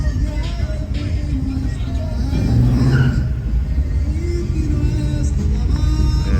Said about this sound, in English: And I got the Chevy with the 454 in the hood.